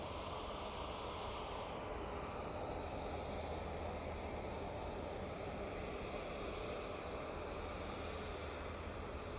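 A plane at Manchester Airport touching down on the runway, heard as a steady, far-off engine roar that stays even throughout with no clear thump, and no one speaking.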